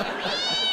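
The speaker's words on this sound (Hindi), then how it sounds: "अच्छा, बिल्ली बिल्ली किथे गई यार?" A cat gives a single drawn-out meow, clear and fairly close, rising then holding steady for under a second.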